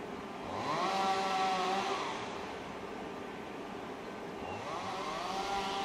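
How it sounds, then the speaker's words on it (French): An EcoFlow DELTA Max portable power station's cooling fan runs at low speed, a steady whirring hum with a faint rising whine that swells, fades and returns, heard up close in a quiet setting. "le ventilateur s'est mis en route"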